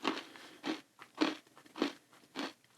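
Five crisp crunchy bites at a steady pace, close and sharp, with no talking.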